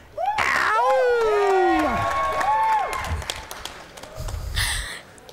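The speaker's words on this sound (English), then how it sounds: "you should cheer because we're at the gathering" A crowd at The Gathering 2015 bursts into loud cheering, with high whoops, screams and applause swelling together, then thinning into scattered shouts before a final louder burst near the end.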